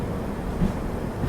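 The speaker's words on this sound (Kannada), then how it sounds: "ಹುಬ್ಬಳ್ಳಿ ಸೂಪರ್ ಫಾಸ್ಟ್ ಎಕ್ಸ್ಪ್ರೆಸ್ ಅಂದ್ರೆ ಹಜರತ್ ನಿಜಾಮುದ್ದೀನಿಂದ ಹುಬ್ಬಳ್ಳಿಗೆ ಹೋಗುವ ಸೂಪರ್ ಫಾಸ್ಟ್ ಎಕ್ಸ್ಪ್ರೆಸ್ ಬಂದತ್ರಿ" Hubballi Superfast Express from Hazrat Nizamuddin pulling into Badami railway station, a continuous low rumbling roll of train wheels and wagons, close and fairly loud, with no talk.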